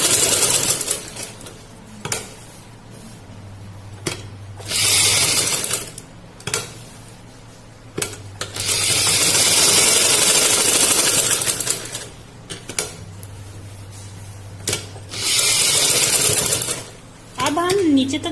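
A sewing machine stitches a salwar in several bursts of rapid, humming stitching, each lasting a few seconds, separated by pauses where someone talks and the fabric is handled.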